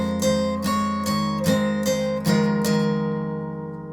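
Slow strummed acoustic guitar chords from a song, about seven evenly spaced strokes ringing out, then a final chord left to fade, played alone with no voice.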